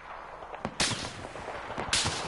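Gunfire in a PS4 video game: two sharp, loud broadband shots about a second apart, with smaller pops and a steady game backdrop between them.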